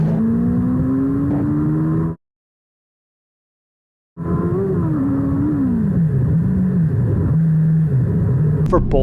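A 2018 Audi S3 with a Cobb Stage 1 tune accelerates hard from 50 to 100 km/h on heavier winter tires, its engine roaring loudly with rising pitch and a gear shift, broken by a two-second gap of silence.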